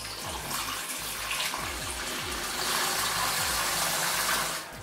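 Water from a tap runs steadily into a film developing tank as a pre-wash before C-41 colour film processing. It is a continuous, fairly loud broadband rush with low gurgling underneath and no talk.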